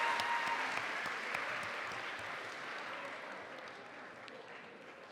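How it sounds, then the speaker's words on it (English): A crowd gathered for a College Day welcome event at Brown applauds steadily, the dense clapping heard from a distance and fairly faint, easing slightly in level across five seconds. "give them a round of applause"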